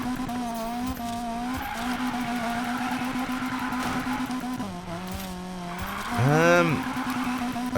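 A Nissan S13 drift car in the Need for Speed Payback video game holds a steady, droning engine note stuck in third gear, then revs and squeals its tires in a rising sweep, while a voice talks over it.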